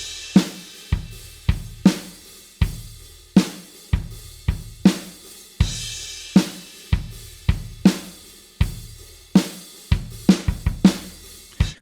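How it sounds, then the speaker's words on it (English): A steady programmed rock drum beat plays alone: punchy kick and snare hits in a regular pattern with crisp cymbals, a quick fill near the end. "I found American Rock Beat 2, synced it up, sounds like this."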